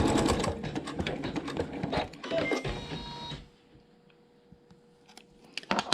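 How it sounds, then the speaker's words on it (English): Sewing machine stitching a tiny quilt-block seam, a close burst of fast mechanical chatter for about three seconds that stops into near quiet with a few faint clicks. "So I'll take fabric 7 and place it right side to that last trim seam with my edges even, and stitch that tiny little seam"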